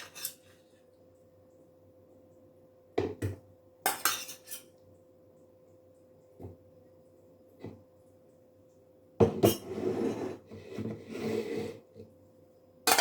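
Pieces of butternut squash tipped into a Nutri Bullet blender container, a few sharp clinks and knocks spaced apart, then a longer cluster of scraping and clattering, quiet between the impacts.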